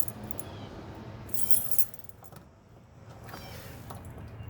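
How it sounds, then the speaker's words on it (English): A ring of Ford keys, for a 1967 Mustang with an inline six, jangles close by in brief metallic clinks and shakes, loudest in one burst near the middle. "We have several Ford keys on here, so we'll figure out which one goes to what, hopefully."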